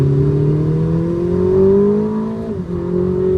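A Ferrari 849 Testarossa accelerating on throttle around Sonoma Raceway, its engine note climbing steadily and loud from the cabin, with a short dip as it shifts before rising again.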